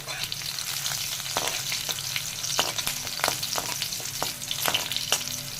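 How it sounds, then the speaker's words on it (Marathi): Mustard seeds, curry leaves and green chillies in hot oil for a kande pohe tempering, with steady, close sizzling and frying and occasional sharp crackles and spatula taps throughout, no voices. "तर राई आपली छान अशी तडतडते"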